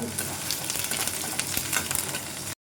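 Curry leaves crackle and sizzle as they hit hot oil for a vegetarian dal, a busy, steady frying hiss with sharp pops, close and fairly quiet.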